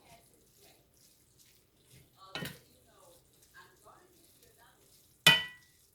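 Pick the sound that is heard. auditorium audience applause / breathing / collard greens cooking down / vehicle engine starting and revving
collard greens cooking down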